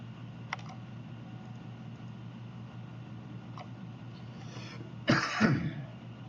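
A single harsh cough or throat-clearing bursts out near the end, close and loud, over a low steady background hum with faint clicks earlier.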